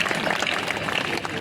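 A crowd at a Hindi poetry recital held at a school claps in a thick, continuous burst that stays loud throughout, with some crowd noise mixed in.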